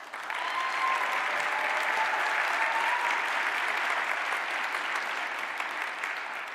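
An audience at an investment product showcase claps for a guest in the room, a sustained, even round of applause heard from within the crowd.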